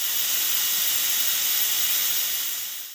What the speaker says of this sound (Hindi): बॉयल है तो जल्दी स्टीम प्रेशर कुकर में इकट्ठी हो जाएगी।